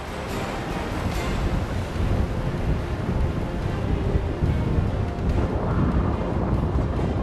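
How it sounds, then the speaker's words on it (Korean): Near-typhoon wind off Ulleungdo with 5 to 6 metre seas sends a constant loud roar of gusts and crashing surf, buffeting the microphone heavily without letup. "배가 뜰 수 없을 정도로 부는 바람."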